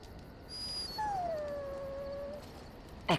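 A dog in the video game Dragon Age: Origins gives a single drawn-out whimpering howl that slides downward in pitch, close and fairly clear over a steady background hum, ending with a brief sharp noise.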